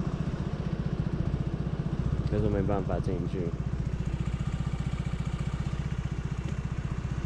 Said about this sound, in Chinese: 这台摩托车不行